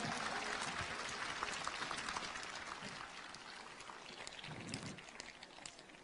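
Sustained audience applause fills the whole stretch, a dense steady patter of many hands at moderate volume with no voices over it.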